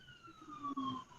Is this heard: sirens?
yes